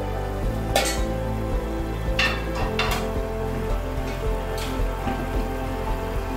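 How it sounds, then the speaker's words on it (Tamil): Ground fennel and coconut paste is poured into a pot of mutton kothukari curry, bringing a loud, continuous sizzle with crackling bursts and stirring, and no talk. "சோம்பு அரைச்சதை ஊற்ற போறோம்."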